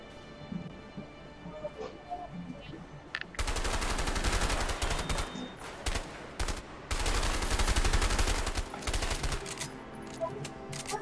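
Gunfire in the co-op action game A Way Out: two long, dense bursts of loud automatic shooting separated by a short gap, near and dominant, with faint background game sound before the first burst.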